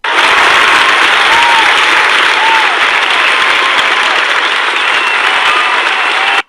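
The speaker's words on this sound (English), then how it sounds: "the auditorium erupted into thunderous applause" Thunderous applause fills a theatre auditorium, a dense, loud, continuous roar of many hands clapping at once, sustained evenly throughout before cutting off sharply.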